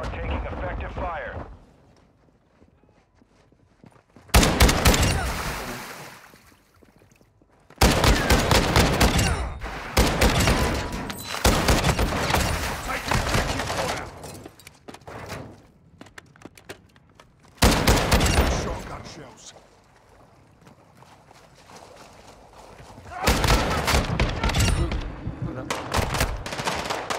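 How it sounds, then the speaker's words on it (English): Gunfire in Call of Duty Warzone DMZ: loud bursts of rapid automatic fire come in several volleys separated by quieter gaps, with radio-style voice lines heard between them. "You are taking effective fire."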